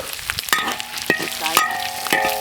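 Garlic and dried Sichuan pepper stir-fried in pork fat rendered in a wok, giving a steady close sizzle broken by sharp metallic clanks and scrapes of the spatula, with no talking.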